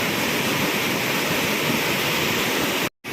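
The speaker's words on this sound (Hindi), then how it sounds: "बारिश अभी लगातार हो ही रही है।" Heavy, steady rain pours over a swollen village river in the monsoon season, a dense unbroken wash of water noise close by, cutting out briefly near the end.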